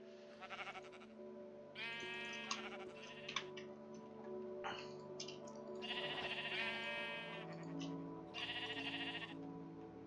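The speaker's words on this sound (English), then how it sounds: "Pink and purple sheep tree." Minecraft sheep bleat repeatedly in the game, several nasal bleats overlapping in bursts across the stretch, loud and close with no talk.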